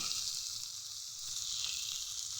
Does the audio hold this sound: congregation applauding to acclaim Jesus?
no